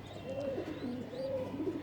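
Pigeons coo softly at close range, a few low rolling coos rising and falling over a quiet background, with faint chirps mixed in and no one talking.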